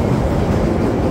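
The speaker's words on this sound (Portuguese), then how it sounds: "O trem passando." A loud, low rumbling roar of a train passing in Chicago, steady and close, with no talking.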